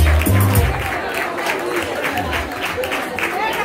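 An audience at a samba school queen and court results night applauds in a dense wash of clapping and crowd noise, with an amplified voice and music blending in beneath.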